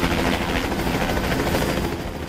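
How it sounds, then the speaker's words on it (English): A TV news helicopter flies overhead, its rotor producing a loud, steady chopping drone that fills the whole stretch without pause. "TV news helicopter."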